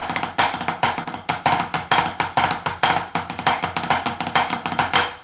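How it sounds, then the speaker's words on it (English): Rapid snare drum rudiment of flam drags played in a triplet grid, a steady stream of crisp close strokes with grace notes and regular accents, alone without talk. "One of the things that everybody likes to grid in triplet grid is flam drags"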